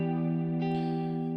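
A sustained guitar pattern produced in FL Studio rings out through a plain room reverb at a low mix, its held tones blooming with a short airy tail and no voice over it.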